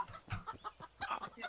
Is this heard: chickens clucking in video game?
yes